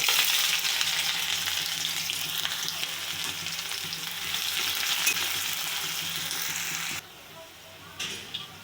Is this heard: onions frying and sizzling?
yes